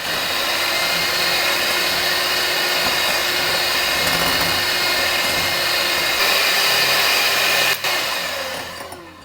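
An electric beater whisks eggs with powdered sugar for a chocolate cake, a loud, steady whirring motor hum running unbroken at close range before winding down at the end.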